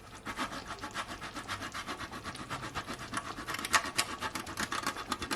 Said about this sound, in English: I'm just gonna grate some of my Parmesan cheese on top.